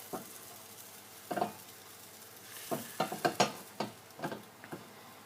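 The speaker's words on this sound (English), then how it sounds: "What I'm going to do is get the spatula and just gently go around the outside to loosen it up" Spatula scraping around the edge of a setting frittata egg mixture in a frying pan, with soft irregular scrapes and taps over a quiet, steady sizzle, close and gentle.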